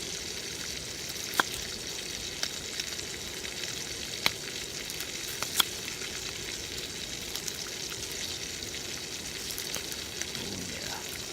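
Garlic fries in a pan at a cold-weather camp cookout, a soft continuous sizzle with scattered sharp pops and spits, quiet and close.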